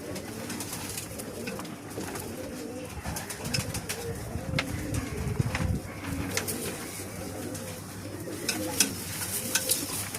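Several female pigeons coo together in a loft, overlapping low rolling calls running continuously and fairly close, with light rustling and scratching underneath.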